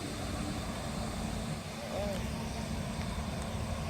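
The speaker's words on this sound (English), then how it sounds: "I can hear the engine roar now." A deep, steady locomotive engine roar at a grain elevator rumbles continuously and loudly, with a dense low drone that never lets up.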